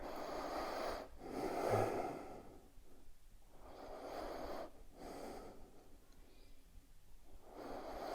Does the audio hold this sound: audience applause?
no